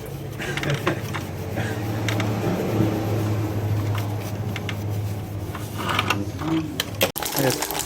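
A can of plastic primer and paint is shaken before spraying car trim parts, producing a continuous close rattling and clacking, with a voice speaking over it.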